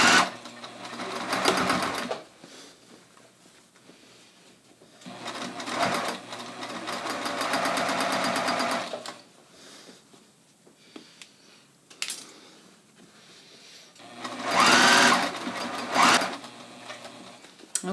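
A sewing machine stitches the hem of a pair of jeans in three loud bursts of fast, even needle chatter, with quiet pauses between them.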